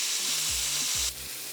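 Scotch fillet steak searing in a very hot pan gives a steady, loud broadband sizzle, with low thumps of the pan or meat being shifted partway through before the hiss drops slightly.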